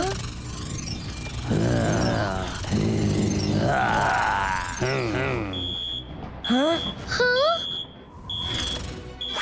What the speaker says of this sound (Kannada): ಇದೊಂದು ಅಲಾರ್ಮ್ ಅನ್ಸುತ್ತೆ.